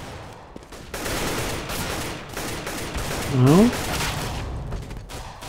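P250 pistol shots crack during a Counter-Strike eco round, a few brief bursts that sit under continuous excited commentary from a caster.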